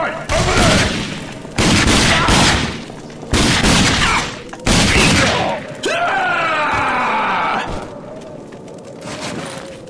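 In an Xbox shooter, heavy bursts of gunfire boom out in four loud volleys, followed by a whooshing, whining explosion-like sweep that fades away.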